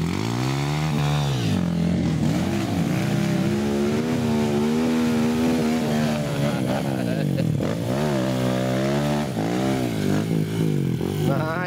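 A motorcycle engine revs and runs steadily on a dirt adventure trail during the 2022 Sidetapa Adventure Trail event, its pitch rising and falling continuously while people talk nearby.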